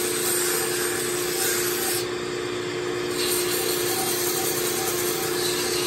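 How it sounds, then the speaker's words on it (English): Sandpaper rubbing against a spinning wooden mallet on a wood lathe, a steady close rasping hiss layered over the motor's constant hum, running unbroken with slight swells in pressure. "Now I'm just going to sand this right quick"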